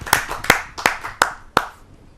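An audience at a Hindi kavi sammelan poetry gathering claps in five sharp, evenly spaced beats, close and loud, each one fading quickly before the next.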